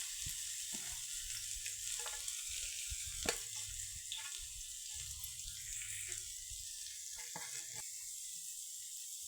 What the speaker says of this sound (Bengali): তেলের মধ্যে দিয়ে দেবো প্রথমে পেঁয়াজ, লঙ্কা আর রসুন কুচি